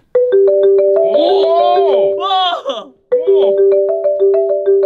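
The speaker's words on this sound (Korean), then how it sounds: "이번에는 유진님이 마림바로 전 세계 모두가 알만한 곡을 쳐준다고 하시는데요." Bright mallet notes ring out in a steady melodic line, like a marimba tune, broken briefly by a short burst of voices before the playing resumes.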